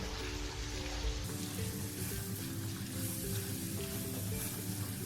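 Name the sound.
stirring onions and tomatoes frying in a pan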